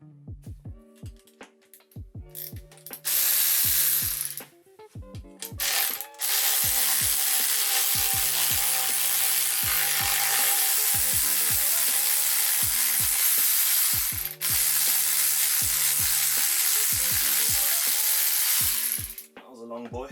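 Power tools whir and ratchet repeatedly while removing bolts from a Ford Fiesta ST150 gearbox. The tools come in loud bursts, some sustained for several seconds and others short, with quiet clicks and pauses between them.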